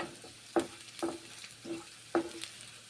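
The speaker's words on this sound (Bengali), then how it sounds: "এখন ভেজে নিচ্ছি রসুনগুলো" Garlic fries quietly in oil for a gourd curry, with a soft sizzle broken by four or five brief stirring scrapes of a spatula in the pan.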